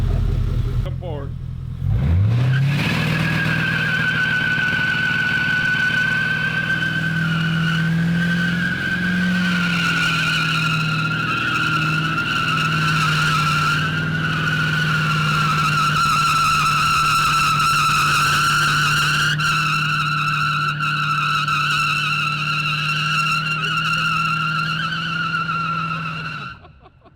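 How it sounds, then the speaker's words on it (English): Drag car doing a nitrous burnout, tires skidding in a loud, sustained screech over a steady engine roar for about twenty-five seconds, starting abruptly and fading at the end. "So bad to do a burnout. You know it's all nitrous."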